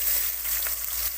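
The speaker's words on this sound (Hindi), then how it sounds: "इनको ब्राउन करूँगा उसी ऑयल में जिसमें मैंने" Sliced onions browning in hot leftover oil from frying fish, giving a steady, close, dense sizzle throughout with no talk.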